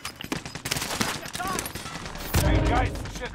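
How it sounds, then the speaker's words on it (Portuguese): Rapid bursts of automatic gunfire and heavy shots in a Warzone Resurgence quads match, loud and close, with a denser volley near the end and voices talking over the shooting. "Os desgraçados estão atirando em mim."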